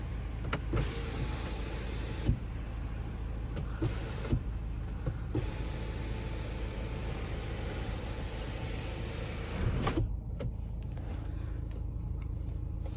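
A BMW X3 panoramic sunroof slides open with a steady electric motor whir inside the cabin, punctuated by a few clicks and ending in a brief clunk as it stops.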